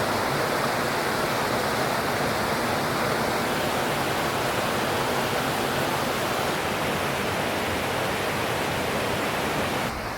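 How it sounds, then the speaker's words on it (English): Steady rushing of creek water flowing close by in the Eastern Sierra near Big Pine Lakes in autumn, a continuous full hiss with no breaks and no voices. "load up on some fresh water from this creek here"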